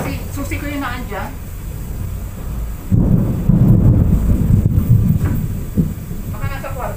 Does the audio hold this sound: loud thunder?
yes